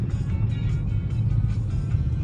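Busy street traffic in Iloilo City, a steady low rumble of car and truck engines idling and moving nearby, continuous with no pauses.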